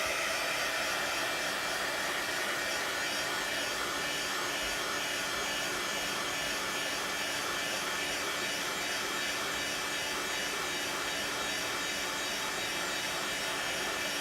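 A hair dryer blows steadily on a watercolor painting propped upright, its broad even roar holding near and loud for the whole stretch with no talk.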